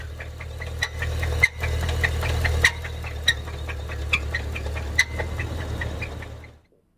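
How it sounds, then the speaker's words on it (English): A Tesla Cybertruck engine with a fault knocks in a steady rapid rhythm over a low, constant hum, with a few sharper clicks, until the sound cuts off near the end. "That engine blew"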